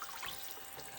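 Water running from the tap of a toy play sink while dishes are washed with soap, a steady, faint trickle and splash with no talk.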